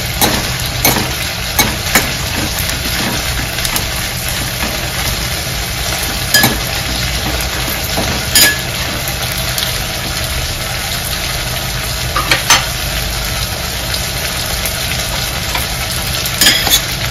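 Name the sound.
chillies roasting in oil in a pan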